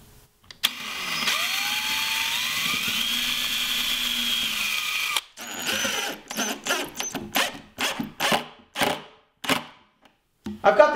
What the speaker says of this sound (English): And I'll pre-drill first, being careful not to drill too deep and going through the top.